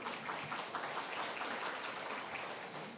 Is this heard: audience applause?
yes